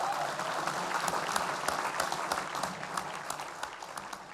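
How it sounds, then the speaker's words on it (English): Sustained applause from a gathered group of scientists and engineers at JPL, a dense steady patter of many hands clapping at moderate distance, with no voices over it. "Applause."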